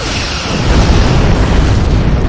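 A Borg cube explodes in the space game Star Trek Online, a loud sustained rumbling boom that swells and rolls on for a couple of seconds with no talk over it.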